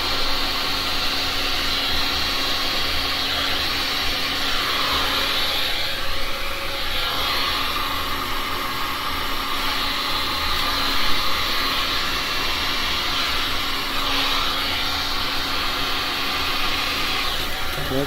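Heat tool warming epoxy resin, giving a steady, fairly loud blowing whoosh like a hair dryer that lasts throughout without pause.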